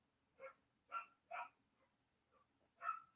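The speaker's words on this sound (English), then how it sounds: "Dogs are barking." A dog barking in the distance, four quick, fairly faint barks followed by a pause, a soft yip, and one last bark.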